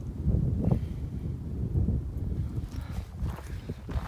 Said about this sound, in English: the wind is whipping 30, 40 miles an hour through here